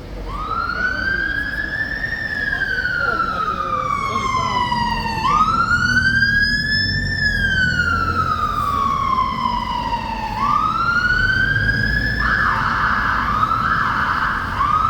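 Loud police, ambulance and fire brigade sirens wail in long rising and falling sweeps, with a second siren joining near the end over steady traffic rumble.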